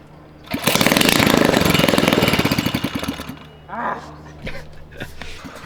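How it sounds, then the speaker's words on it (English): A flooded Toyota Tacoma engine cranks with a fast, steady chugging rhythm for about three seconds, then stops without catching. A voice speaks briefly afterward. "You flooded it because you just keep cranking it."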